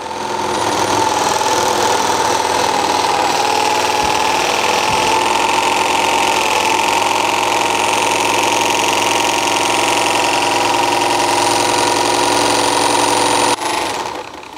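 A swash plate mechanism runs at full power, 3000 RPM, giving a loud, steady mechanical drone with a rattling, knocking texture that holds constant for about fourteen seconds before cutting off abruptly at the end.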